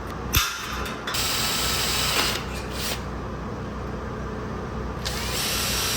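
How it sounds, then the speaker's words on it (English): A power drill whirs loudly in sustained bursts, drilling 3/8-inch holes in a heavy-duty shelf, stopping briefly between runs, close up with no speech. "We're gonna drill 2 3/8 holes."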